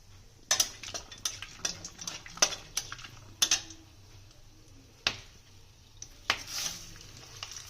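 Washed rice being fried in a pot with cinnamon, cardamom, cloves, peppercorns and mace for vegetable pulao, heard as sharp clinks and scrapes of a metal spoon over a faint low sizzle, close-up and intermittent, no talking.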